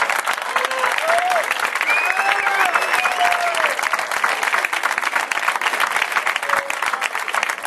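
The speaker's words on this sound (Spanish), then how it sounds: "Fuerte el aplauso." Loud, sustained applause fills the air at a club barbecue for San Lorenzo de Almagro supporters, a dense even wash of many hands clapping, with faint crowd voices and a few whistles mixed in.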